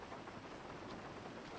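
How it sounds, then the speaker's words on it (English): Steady rain in GTA V NoPixel roleplay, an even, hissing patter of drops on surfaces with a faint low rumble underneath, constant and unbroken. "now it's raining on my amazing hair"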